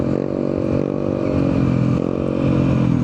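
Stock Yamaha Mio Gravis scooter engine running steadily up close, a continuous even drone with rich harmonics and no pauses.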